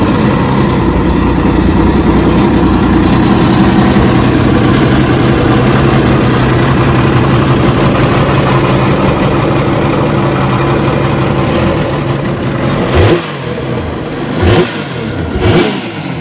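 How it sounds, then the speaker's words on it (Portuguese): A 2020 Yamaha VX Cruiser jet ski engine runs loud and close, holding a rough steady idle before several sharp revs surge near the end; no voices. "E agora eu vou mostrar para vocês o mais legal, que é como esse motor ronca."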